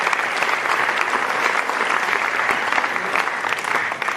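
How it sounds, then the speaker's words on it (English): An awards crowd at the University of Rio Grande athletic awards gives full, continuous applause for the senior women's team, the clapping staying dense and even before it tapers at the very end. "So if you guys want to give a round of applause for the seniors and just the whole women's team in general"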